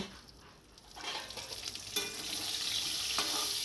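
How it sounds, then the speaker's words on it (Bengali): Pointed gourd (potol) frying in a pan, a soft hiss that swells into a steady brighter sizzle, with a couple of faint scrapes, close and without voices. "এবার দেখব পটল ভাজাটা কত হলো"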